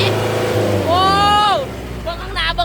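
An L5018 tractor pulls a plow in third gear, its engine a steady rough chug underneath someone talking nearby.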